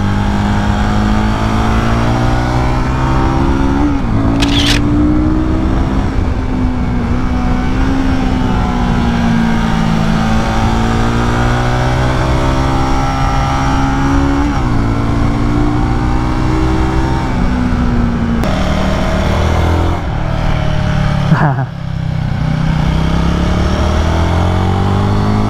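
A Royal Enfield Guerilla 450 roadster motorcycle engine pulls hard in second gear, a loud, steady close-up roar whose pitch climbs and resets across several long acceleration runs, with wind rush throughout.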